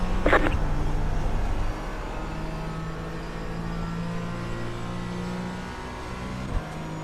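Race cars in iRacing at Indianapolis, a steady engine drone from the driver's car mixed with other cars' engines closing in and passing, loud and continuous.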